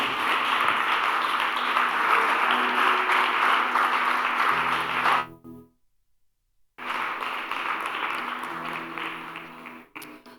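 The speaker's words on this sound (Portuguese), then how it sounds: "E você pode aplaudir ao Senhor." A church congregation applauds at a prophetic worship service, a dense, steady wash of many hands clapping that cuts off abruptly, then surges back after a short silence.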